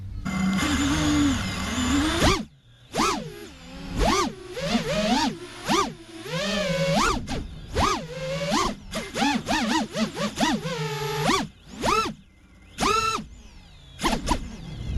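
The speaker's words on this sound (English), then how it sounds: "I'm just gonna do a couple hover tests" FPV drone motors whine through a hover test, their pitch sweeping up and down in quick bursts as the throttle changes, loud and close throughout the recording.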